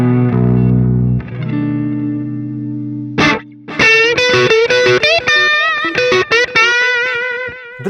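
Electric guitar through a Neural DSP Gojira distortion plugin with phaser and chorus, opening with a sustained chord, then aggressive, heavily distorted palm-muted riffing and squealing bends, loud and close.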